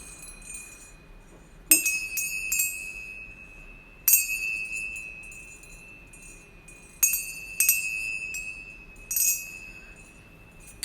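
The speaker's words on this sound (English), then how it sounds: "Here are some chimes that I've acquired and cleaned up and cleansed energetically." Metal chimes ringing in a quiet room, with several separate strikes that each leave bright, sustained tones slowly fading before the next, spaced a few seconds apart.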